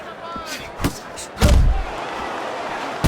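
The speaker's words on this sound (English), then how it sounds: "Glover's defense penetrated by a well-targeted uppercut." A well-targeted uppercut lands in the Fight Night Champion boxing video game, a single heavy thudding impact in the middle of the round, preceded by a lighter hit and set against a low crowd murmur.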